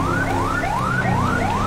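Police car siren from a GTA 5 Indonesian police mod on a Toyota Hilux patrol vehicle, a loud, steady wail repeating its rising sweep about every 0.35 seconds, close and continuous with no talking.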